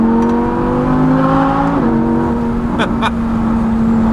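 An Audi R8 V10 Plus engine drones steadily, its pitch dipping briefly then settling into a sustained rev, loud and close throughout.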